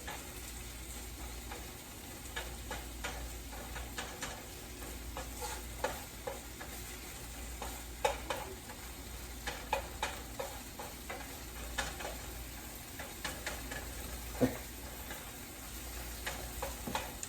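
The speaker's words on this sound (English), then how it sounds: "Want to cook your kale just enough to where it's about like wilting." Baby kale sautés in a large pan, a steady close sizzle running throughout with frequent light clicks and scrapes of stirring, moderately loud and without talk.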